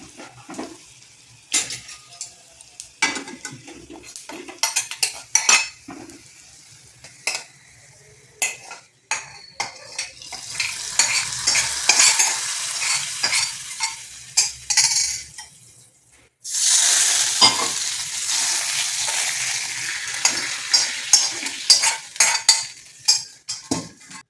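Onions fry in a pan for ulli theeyal, a crackling sizzle that swells and fades, broken by frequent metal clinks and scrapes of stirring; no voices.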